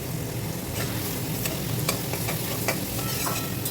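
Vegetables, potatoes and egg fry with a steady, broadband sizzle in a pan, punctuated by occasional scrapes and stirring clicks, close and without any talking.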